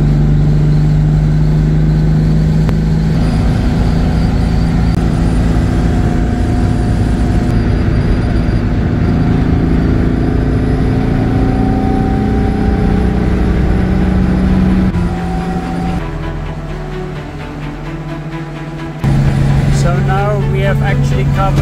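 A Jaguar E-Type engine runs at about 3,000 rpm while the car drives in traffic. It gives a loud, steady drone with shifting pitch under road and wind noise, and a voice talks over it.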